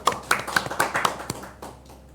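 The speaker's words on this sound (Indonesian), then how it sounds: "kita beri tepuk tangan dulu buat tamu kita di studio PJ" Brief applause for studio guests on an Indonesian sports talk show, a few sharp claps in quick succession close to the microphone, tapering off within about two seconds.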